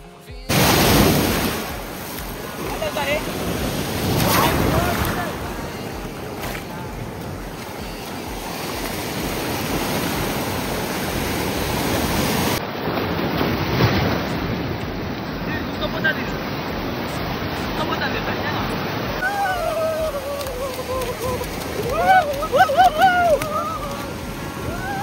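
Ocean waves wash onto a beach in Pondicherry, a steady broadband surf rush with wind buffeting the microphone, swelling into louder breaks near the start and end; faint voices drift in the background.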